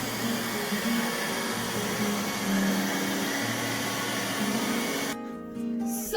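A Millagrow Seagull robot cleaner runs while mopping, giving off a steady motor whir with a low hum underneath, briefly dipping near the end before resuming.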